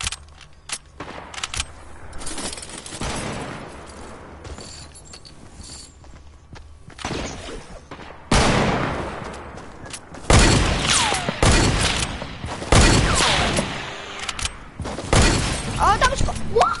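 Video game gunfire bursts out in loud, sharp volleys over a background of game effects and footstep-like clatter, with players talking throughout.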